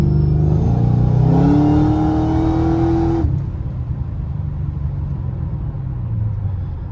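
A Whipple supercharged fifth-generation Camaro with about 700 rear-wheel horsepower accelerates hard, its engine note rising in a loud, close rev for about three seconds before easing to a lower cruising rumble.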